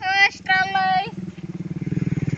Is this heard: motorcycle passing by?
yes